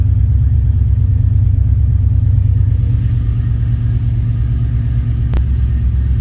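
A car engine idles at a steady, deep rumble near 1,000 RPM under Speeduino standalone EFI idle control. It is loud and close throughout, with one brief sharp click near the end and no talking.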